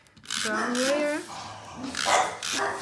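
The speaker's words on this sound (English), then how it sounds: "Sorry about the dogs barking." Dogs bark at home behind a person speaking, the yelps and barks mixed into the talk and partly masked by the voice.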